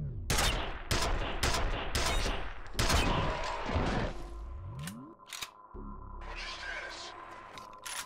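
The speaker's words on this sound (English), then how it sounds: "That was a shot we shouldn't have missed." Gunfire in the shooter game F.E.A.R., a rapid burst of loud, close shots in the first half, then a humming lull with a descending sweep and a few scattered later shots.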